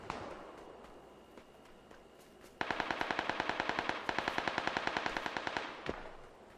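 Automatic gunfire in the battle game PUBG: a steady, rapid burst of loud shots begins partway through and runs for several seconds with a brief break, over quieter background noise and faint movement.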